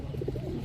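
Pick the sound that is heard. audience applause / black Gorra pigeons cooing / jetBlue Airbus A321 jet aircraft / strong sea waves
black Gorra pigeons cooing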